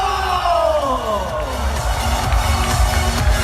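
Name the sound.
audience clapping and cheering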